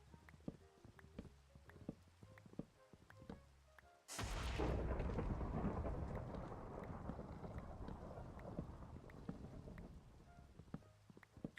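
A lightning strike cracks and booms in the Star Technology video game, a sudden loud burst that rolls into a long, decaying rumble over steady mechanical game sounds.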